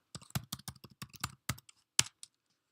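Typing commands on a computer keyboard: a quick run of about fifteen crisp, close key clicks in an irregular burst, ending with a sharper keystroke and a final tap in a quiet room.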